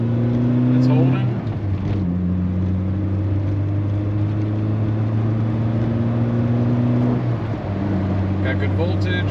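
A 1989 Volkswagen Cabriolet with a 100-horsepower engine drives along, its engine droning steadily through a gear change with a brief rev dip, loud and close from inside the car.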